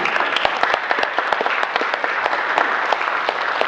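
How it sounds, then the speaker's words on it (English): Audience applause fills a candidate forum for Democratic Board of Aldermen hopefuls, a steady dense patter of many hands clapping close by, with sharper individual claps popping out throughout. "You can applaud at this point."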